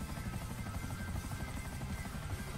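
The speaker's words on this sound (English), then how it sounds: "No, it's a chopper that just took off after us." A video game helicopter takes off, its rotor thumping as a steady, fairly loud drone throughout with no talking.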